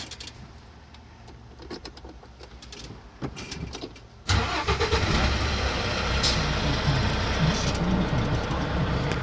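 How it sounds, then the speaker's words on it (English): A truck's engine is started during an in-cab CDL pre-trip inspection: quiet cab rustling and key jingle at first, then the engine cranks and catches abruptly around the midpoint and settles into a loud, steady idle. "I'm going to safe start the truck."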